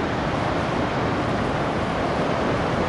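Steady broadband roar of ocean waves breaking along a shaded coastline by a hiking trail, continuous and fairly loud with no voices.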